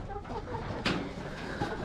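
Layer hens cluck softly and continuously nearby, a low murmuring chorus with one slightly louder call partway through.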